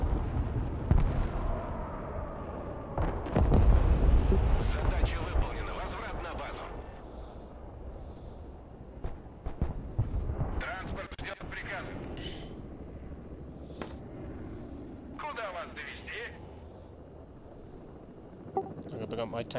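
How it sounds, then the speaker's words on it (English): Artillery fire in the real-time strategy game Broken Arrow, with heavy booming blasts clustered early and scattered sharp reports later, all under continuous talking. "Artillery at the back."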